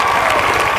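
Schoolchildren in a classroom clap loudly together in a steady, dense burst of applause, close and continuous throughout.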